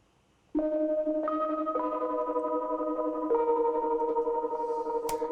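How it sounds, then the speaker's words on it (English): Cheesy, old-timey bell lead synth in a music track, a slow sequence of sustained ringing bell-like notes swimming in heavy reverb and delay, clear and alone after a brief silent start. "this sort of cheesy, old-timey sounding bell lead"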